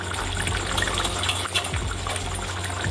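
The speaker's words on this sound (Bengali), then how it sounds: "এবার আমি একটু হালকা করে জল ঢেলে দিচ্ছি।" Water poured into a simmering potato and taro curry for hilsa fish jhol, a steady close gushing splash lasting a few seconds with bubbling underneath.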